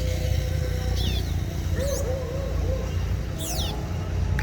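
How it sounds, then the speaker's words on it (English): Short whistled bird calls and a rolling trill ring out a few times over steady background noise, at a spot where a Scarlet Tanager sits in Villa Vieja, Huila, Colombia. "Wow, that's a beautiful bird. The Scarlet Tanager."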